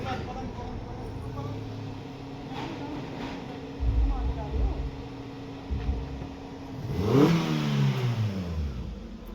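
A motorcycle engine revs in a village setting, rumbling at mid distance before a sharp rising surge near the end, with voices talking over the engine noise.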